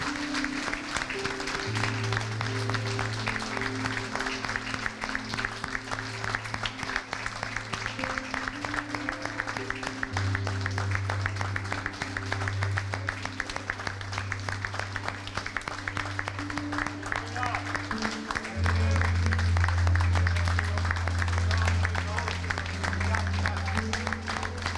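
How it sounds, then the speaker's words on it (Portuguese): A church congregation at a Sunday worship service applauds steadily and continuously, with sustained organ or keyboard chords and voices under the clapping throughout. "Você pode aplaudir ao Senhor?"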